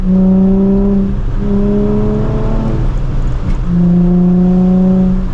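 Loud close exhaust note from a Nissan 350Z with the muffler deleted, a steady raspy drone that dips briefly midway, blips, then settles back to a sustained rumble, with no voices.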